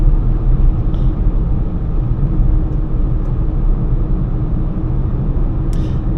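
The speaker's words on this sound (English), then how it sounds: "the road noise right now, it's almost minimal" Steady low rumble of tyre and road noise heard from inside a 2025 Honda Amaze 1.2 manual sedan cruising on the open road, a continuous even drone with a few faint ticks and no voices.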